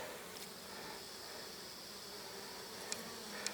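Faint, steady buzzing of honeybees flying in close by carrying pollen, a soft continuous drone with a couple of brief sharper clicks near the end.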